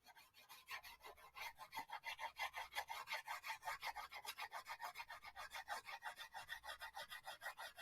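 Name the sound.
coloring lightly with a crayon on paper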